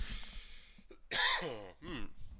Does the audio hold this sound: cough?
yes